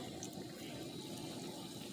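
Homemade chicken broth pours steadily into a pan of mushroom risotto, a soft continuous liquid splash and trickle heard up close and fairly quiet, with no talking.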